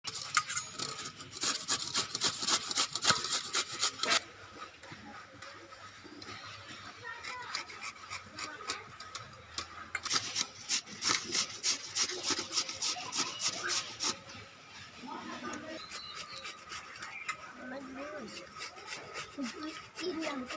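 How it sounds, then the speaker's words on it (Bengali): Raw green mangoes are rubbed against a hand grater in bursts of rapid, close scraping strokes, with quieter gaps between the bursts and people talking softly in the background. "গেটারটা দিয়ে ঘষে নেবো প্রথমে।"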